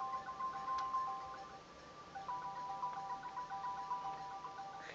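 A mobile phone ringtone plays as a faint, steady melodic tone in a quiet room, sounding through soft background noise with no voices.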